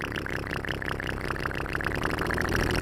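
A small Massey Ferguson 72 tractor engine idles nearby in a steady, rapid chugging putter that holds an even loudness with no revving.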